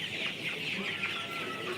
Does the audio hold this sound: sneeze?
no